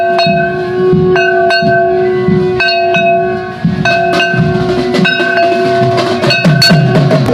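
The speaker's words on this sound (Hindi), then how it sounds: "ढोल नगाड़े घंटा घड़ाल के संयुक्त स्वर यहाँ आज गूंज रहे हैं सर्वत्र चारों दिशाओं में।" Dhol drums, nagara kettledrums and temple bells at the Ganga Mela festival at Prem Sarovar in Braj, with bells struck repeatedly in steady strokes that ring on over a dense, loud bed of drumming.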